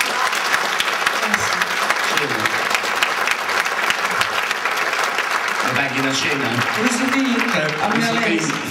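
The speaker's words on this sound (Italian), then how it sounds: "Fatti un applauso per il finto finale." Steady audience applause at a live performance, continuous clapping with someone talking over it in the second half.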